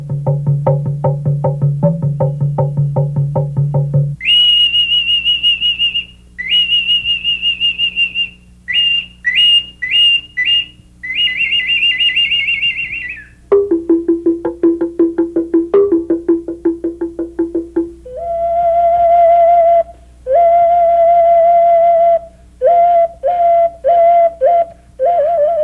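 Latin American baked clay whistles and ocarinas, shaped like animals and gods, play a sequence of loud, pure sustained notes and short repeated chirps at changing pitches, opening with a lower fluttering tone, with no voices.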